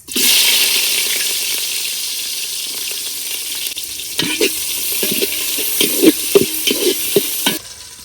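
Oil and onions fry for black gram dal, a steady close sizzle with wet crackling, followed by a run of clinking, scraping stirs of a utensil against the pot toward the end.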